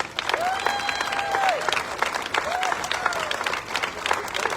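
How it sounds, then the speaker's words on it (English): An audience claps for honored gentlemen of the Red Coat Club at the Jackson Apple Festival, a steady dense round of applause; a faint tonal whistle or feedback rises and falls twice over the clapping. "Give them one big round of applause."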